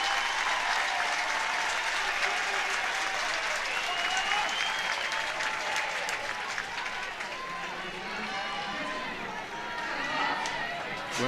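Crowd at an Oregon vs Liberty college softball game applauds and cheers steadily, a dense wash of clapping under a commentator's voice throughout.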